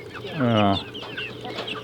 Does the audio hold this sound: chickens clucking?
yes